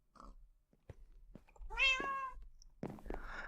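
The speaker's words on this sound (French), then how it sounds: "vous l'entendez donc miauler" A cat meows clearly in the Minecraft Mineplex Block Hunt minigame, one drawn-out meow after a few soft clicks, followed by a shorter cry, close and alone.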